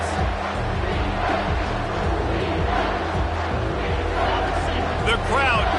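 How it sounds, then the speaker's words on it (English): A football stadium crowd roars for the defense during a red-zone stand. The sustained cheering swells throughout while a commentator talks over it. "The crowd getting behind this defense as they try to get a stop in the red zone."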